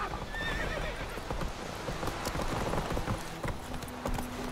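Roach the horse in The Witcher 3 neighs in a short high whinny near the start, then hooves clop steadily along at a walking pace under faint game ambience.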